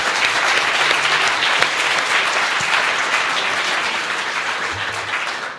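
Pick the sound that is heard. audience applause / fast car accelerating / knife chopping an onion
audience applause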